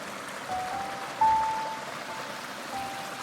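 A forest creek runs through a valley past mossy boulders and a hollow tree, a soft, steady trickling wash heard up close with a faint high tone drifting above it.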